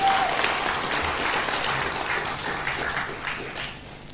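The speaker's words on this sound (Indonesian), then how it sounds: "Kita berikan aplaus." Audience applause for Anies Baswedan at a NasDem party event, dense and steady clapping from a crowd that holds loud throughout and eases slightly toward the end.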